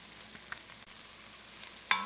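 White pepper and other ingredients sautéing in a pan for Italian baked beans, a soft steady sizzle with a few faint stirring clicks and one sharper scrape near the end, quiet and close with no talk.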